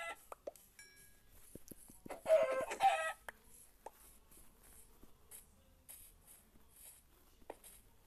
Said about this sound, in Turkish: İki vuruşta ölüyor zaten tavuklar.